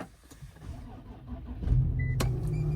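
An Infiniti car is push-button started, a quiet cabin click and brief beep giving way to the engine catching at about one and a half seconds, then settling into a steady low idle close by.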